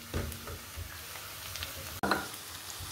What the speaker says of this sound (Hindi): प्याज को कुक होते हुए तकरीबन 1 से 2 मिनट हो चुके हैं